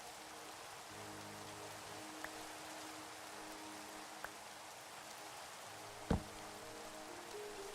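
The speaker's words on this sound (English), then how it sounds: "Oh, there's the rain." Steady rain in a cozy post-apocalyptic survival game, a soft, even hiss that continues throughout at low volume, with a couple of faint ticks and one brief louder knock near the end.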